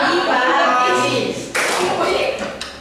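Schoolchildren clap together in a classroom clap routine, a quick burst of sharp claps with a louder group clap near the middle, mixed with children's voices and chatter throughout.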